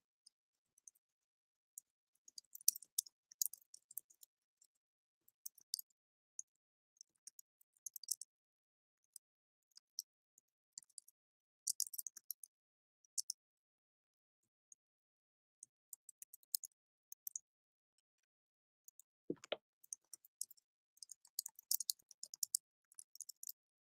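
Light, scattered clicks of typing on a computer keyboard come in irregular bursts with quiet gaps between them, soft and close with no talking.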